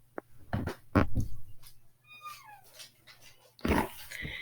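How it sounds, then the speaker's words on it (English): A pet dog growls and whimpers in short bursts indoors, a few close yips, then a rising whine and another burst near the end. "Anyway, that's my dog."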